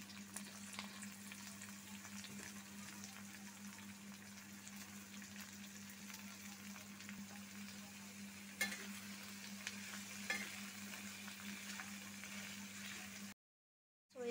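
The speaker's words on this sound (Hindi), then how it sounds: "तापरे आमे कैप्सिकम पकेइबा" Capsicum frying in a pan for Odia-style chilli paneer, a steady soft sizzle with a low hum underneath and a couple of brief stirring knocks, continuing alone until a short silence near the end.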